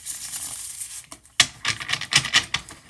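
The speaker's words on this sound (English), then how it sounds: "One more shuffle." A deck of oracle cards is shuffled by hand: soft rubbing at first, then a sharp snap followed by a quick run of papery riffling bursts, close and fairly quiet.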